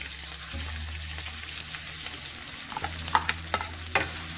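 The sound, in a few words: chopped onions frying in hot ghee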